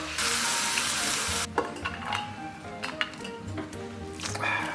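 Braised noodles with pork belly and green beans cook over high heat in a wok, a loud hiss at first giving way to crackling sizzle and scattered clinks of a utensil against the pan.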